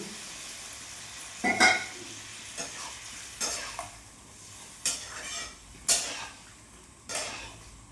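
New potatoes fry in a pan for cauliflower roast, a soft sizzle beneath several sharp scrapes and knocks of a spatula stirring at a steady, unhurried pace.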